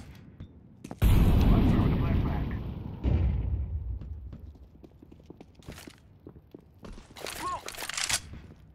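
An incendiary grenade bursting in Counter-Strike on the Vertigo map, a sudden loud whoosh of flame that keeps roaring for a couple of seconds with a second flare-up, fading into scattered game sounds while players talk.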